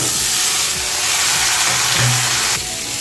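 Drumsticks and radish tipped into a hot pan of lightly fried potatoes, producing a loud, continuous steamy hiss that drops off sharply near the end.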